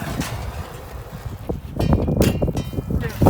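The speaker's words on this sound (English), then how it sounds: "I'll light this guy up. The fire starter going." A handheld fire starter torch roars as it lights charcoal on a PK Grills PK360 outdoors, a gusty, uneven hiss that swells louder toward the end amid wind noise.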